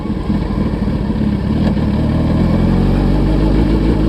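A Suzuki Hayabusa engine runs during a clutch start, a loud, close, steady idle that rises into a heavier, fuller rumble partway through.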